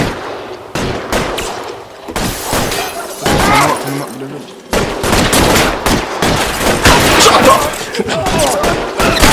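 Rapid gunfire crackles through a police shootout in the video game L.A. Noire, dense bursts of shots with overlapping character voices talking over the action.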